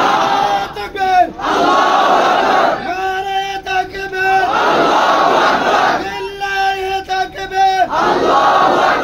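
Large crowd at an outdoor Rohingya religious sermon gathering shouts a loud unison chant answering a takbir call, the roar repeating in several surging waves.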